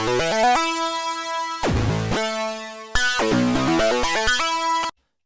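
A gritty, dirtied-up melodic techno synth with its filter cutoff fully open plays a bright, buzzy sequence of stepped notes, with a low swooping stab midway, then stops abruptly into silence.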